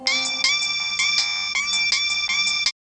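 A bright electronic phone ringtone plays a repeating melodic phrase several times in a row, loud and close, then cuts off abruptly.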